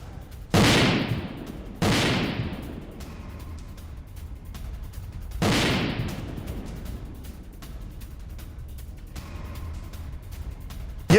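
Three loud explosion blasts from a Ukrainian drone attack on Crimea, each a sharp broadband boom with a long decaying rumble, spaced a few seconds apart over a steady low background noise.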